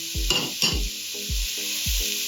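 A spoon stirs salt, thyme, fenugreek seeds and pepper into a simmering Romanian winter soup, giving several rhythmic scraping strokes with low thumps against the pot over a steady background hiss.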